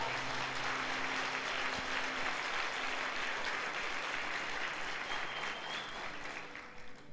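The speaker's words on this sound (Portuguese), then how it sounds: "Então dá um aplauso ao Senhor Jesus" Church congregation applauding during a Sunday worship service, a steady broadband wash of many hands clapping that fills the whole stretch and eases slightly near the end.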